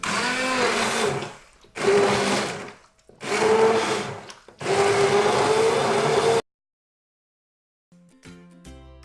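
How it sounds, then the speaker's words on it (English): A hand blender whirs through roast butternut squash soup in four loud bursts separated by short pauses, its pitch shifting as it churns, then stops; faint clinking follows. "get your hand blender in amongst it and just start blending away."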